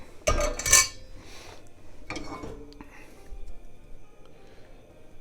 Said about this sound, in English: you should be beating the living daylights out of your eggs